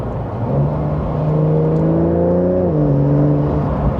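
A Porsche 911 Carrera 992.2 sports car accelerates hard with a loud, steady exhaust drone whose pitch climbs, then drops with a quick gear shift before rising again, heard close and without talk.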